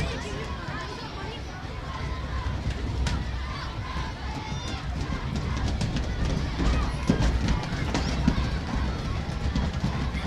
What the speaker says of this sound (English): you could hear the strong crowd on hand at the Orchard on a Monday morning